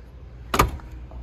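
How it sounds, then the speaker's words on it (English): A car door on a 1976 BMW 2002 swings shut with a single solid thunk, close and fairly loud, then a faint rattle settles against a quiet background. "Didn't slam it hard enough. I hate slamming doors on these guys"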